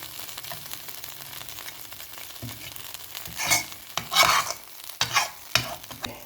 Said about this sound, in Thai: เคี่ยวพริกแกงให้หอมก่อนครับ